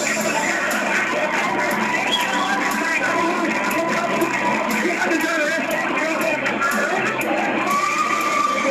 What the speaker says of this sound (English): is the absolute hysteria from the crowd